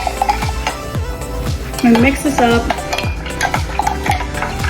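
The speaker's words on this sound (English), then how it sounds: "I'm gonna mix this up" Pretzel dough ingredients mixed in a bowl, with rhythmic repeated strokes of a utensil knocking and scraping close up, regular beats roughly twice per second, with a brief tonal clink in the middle.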